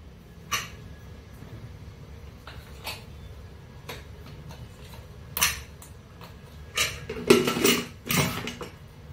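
A metal pressure cooker is set onto a home kitchen stove while a Mangalorean vegetarian thali is cooked. Several scattered, faint metallic clanks and clatters are heard, with a louder cluster of knocks near the end.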